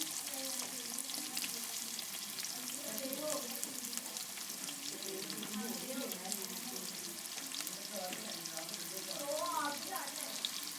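Chopped onions frying in a hot kadai for village-style aloo methi, a steady soft sizzle with faint stirring and scraping underneath and a few voices murmuring in the background.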